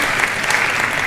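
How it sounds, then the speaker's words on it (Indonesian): Dense audience applause at a youth motivational speech event, steady and loud throughout the short burst with no voice over it. "Tepuk tangan buat Kak Billy."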